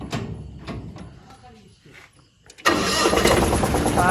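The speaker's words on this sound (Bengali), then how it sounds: "এটা আপনার কম্প্রেসার যে হাওয়া ব্রেকের যে কম্প্রেসার হয় সেই হাওয়া ব্রেকের কম্প্রেসারের এটা আওয়াজ" A new truck's engine and air brake compressor, first heard faintly under quieter sounds, then switching to a loud, steady broadband roar that runs continuously to the end.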